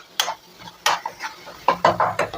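Chili powder, turmeric, cumin powder and salt being stirred and sautéed in a pan, a series of quick scraping, clinking strokes of a utensil against the pan with short pauses between them, fairly close and clear.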